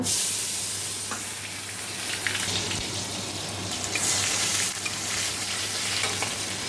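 Tomatoes hit hot oil already tempered with cumin and dried red chilli, crackling into a loud, steady sizzle that carries on without a break, close up.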